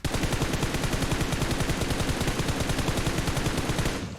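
Rapid Uzi submachine-gun fire in PUBG Mobile, a long unbroken burst of evenly spaced sharp shots, loud and close, cutting off abruptly at the end.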